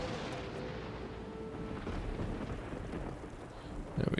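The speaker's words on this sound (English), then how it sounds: "let's make it rain out here on this platform" Rain spell cast in Divinity: Original Sin 2 game, a steady broadband rush of falling rain with low rumbling underneath, holding level throughout, with a brief louder burst at the very end.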